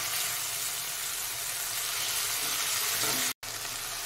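Ginger-garlic paste for a rohu fish curry fries in oil with a loud, dense, continuous sizzle, close up and alone. A brief cut of silence interrupts it near the end.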